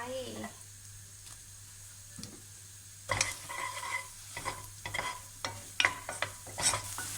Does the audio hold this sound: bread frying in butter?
yes